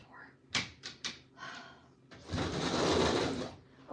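A house door is being unlocked, with several sharp metallic clicks and rattles in quick succession, then a longer, louder rushing scrape of handling nearby.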